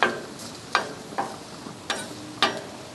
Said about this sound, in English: as these vegetables cook, they're going to release their juices also, and they're going to sort of self-marinate right on there